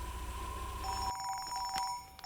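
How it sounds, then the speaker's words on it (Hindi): A telephone rings in a dubbed Hindi film scene, clear steady electronic ring tones sounding alone, quite faint, with no talk over them. "मुरली का फोन आ गया।"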